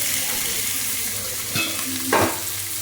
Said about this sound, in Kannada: ಫ್ರೈ ಮಾಡ್ಕೊಳೋಣ